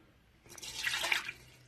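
A cup of water poured into an Instant Pot, a short splashing burst that starts after a quiet moment, swells and then fades, close and fairly soft, with no voices.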